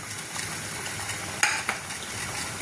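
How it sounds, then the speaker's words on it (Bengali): Sugar being stirred into basanti pulao rice in a cooking pot over steady sizzling, with a couple of sharp utensil scrapes near the end; no talking. "চিনিটা দিয়ে একবার নাড়াচাড়া করে দিয়ে"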